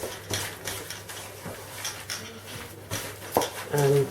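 Sticky, loose soda bread dough being mixed by hand in a bowl, heard as scattered clinks and soft knocks against the bowl at an irregular pace, with a sharper clatter near the end.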